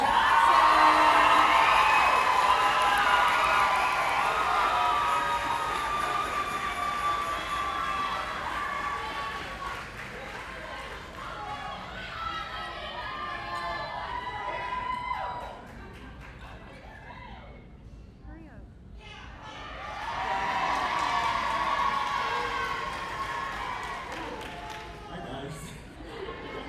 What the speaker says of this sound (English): Everyone give a big round of applause for Demario Johnson.